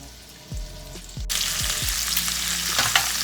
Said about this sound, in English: put your lamb in, and you want to get a nice crust brown on each side